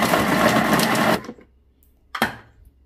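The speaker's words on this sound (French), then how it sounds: "Je ferme et je fais mixer pendant 10 secondes," A Thermomix food processor blends ingredients with a loud, close whirring roar that cuts off abruptly after about a second, followed by a brief clunk of handling.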